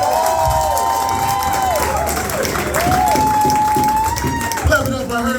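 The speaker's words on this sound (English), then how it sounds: "Clap it up for Orlandino." Audience at a comedy show breaks into applause and cheering, a dense continuous clatter of clapping with whoops, while a voice speaks over the crowd noise.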